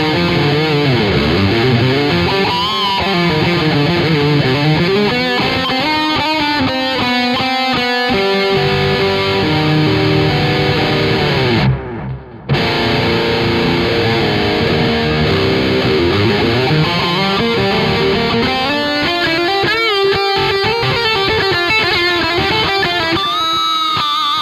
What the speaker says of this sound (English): I'm just going to throw a reverb on this guy